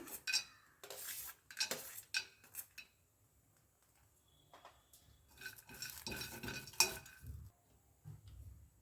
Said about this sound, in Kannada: ಫಸ್ಟು ನಾನೊಂದು ಪ್ಯಾನ್ನ ತಗೊಂಡಿದ್ದೀನಿ ಇದಕ್ಕೆ ಇವಾಗ ಫಸ್ಟು ಒಂದು ಕಾಲು ಕಪ್ಗಿಂತ ಸ್ವಲ್ಪ ಕಡಿಮೆ ಆಗೋಷ್ಟು ಶೇಂಗಾ ಹಾಕ್ತಾಯಿದ್ದೀನಿ